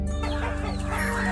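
A hen on a chicken farm clucks sharply while attacking a crow, her rapid, close, agitated clucks running through the stretch over a steady low hum.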